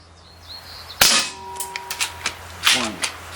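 Crosman MK-177 multi-pump air rifle firing a pellet, one sharp, loud crack followed by a series of clicks and mechanical handling noises nearby.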